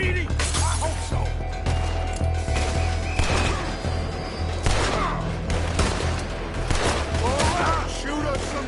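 Gunfire rattles through a Red Dead Redemption 2 shootout as repeated loud close shots and bursts crack over a booming, rumbling game soundtrack, with characters talking throughout.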